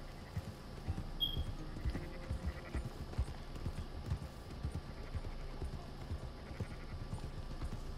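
A horse's hooves clip-clop steadily through the Red Dead Redemption 2 game world. The hoofbeats are soft and irregular over a low outdoor ambience, and a faint bleat is heard once.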